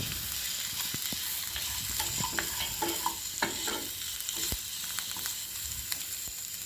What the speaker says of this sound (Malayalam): ഇനി മഞ്ഞൾപ്പൊടി, പച്ചമണം മാറുന്നത് വരെ നന്നായിട്ടൊന്ന് ഇളക്കി കൊടുക്കാം